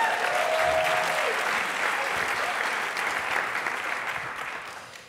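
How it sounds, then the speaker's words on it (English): Sustained audience applause at a community labor conference closing plenary, a steady wash of many hands clapping that slowly fades, with a faint voice near the start. "let's give a round of applause"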